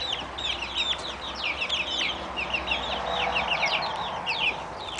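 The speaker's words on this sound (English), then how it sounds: "the rogue black chicken, the Australope that got in the mix with the barred rocks" Backyard chickens, including a black Australorp and barred rocks, cluck and chatter continuously in a busy, overlapping chorus, moderately close, with no talking.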